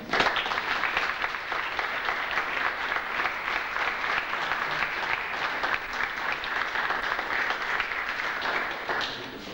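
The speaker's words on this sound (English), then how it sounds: "I think they need a good round of applause" A crowd gathered at the Buckland paddling pool claps in a steady, even round of applause lasting close to ten seconds, dense and moderately loud throughout.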